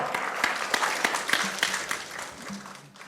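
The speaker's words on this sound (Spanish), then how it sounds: "Dale un fuerte aplauso al Señor." Church congregation clapping in an auditorium after a prayer, a steady wash of applause with some voices mixed in.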